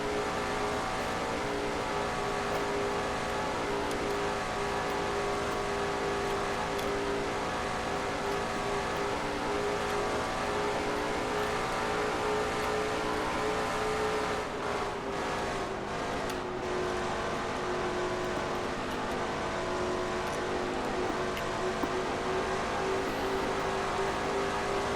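Race car engine from a NASCAR-style racing simulation of a Dodge Challenger 200 event, a constant full-throttle buzzing drone held for the whole stretch with only a slight dip midway, fairly quiet and uninterrupted.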